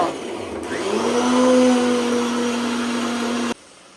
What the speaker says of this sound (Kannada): ನಂದು ಫುಲ್ ರುಬ್ಬಿಟ್ಟಿದ್ದೀನಿ ಚೆನ್ನಾಗಿ, ಫೈನ್ ಪೇಸ್ಟ್ ಆಗಿದೆ